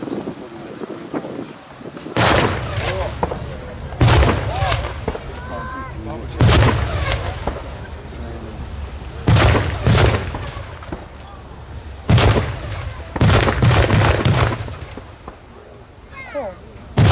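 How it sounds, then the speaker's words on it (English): Booming artillery blasts and gunfire from an Omaha Beach re-enactment of a naval bombardment at a tank event, coming as repeated heavy bursts every couple of seconds outdoors with wind noise, while a commentator talks throughout. "Following another naval bombardment"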